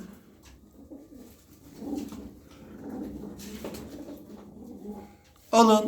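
Tumbler pigeons, including young birds, coo softly in a loft, with low murmuring calls running throughout and a louder burst of calls near the end.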